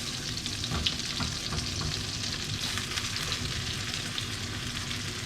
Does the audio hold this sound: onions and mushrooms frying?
yes